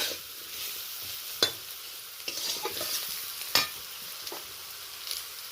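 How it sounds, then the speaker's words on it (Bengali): Vegetables sprinkled with turmeric sizzle steadily in a frying pan while a spoon stirs them, scraping the pan with occasional sharp clinks over the constant crackle. "হলুদটা দেওয়ার পরে আরও 2-4 সেকেন্ড আমি এইভাবে নাড়াচাড়া করে নেব"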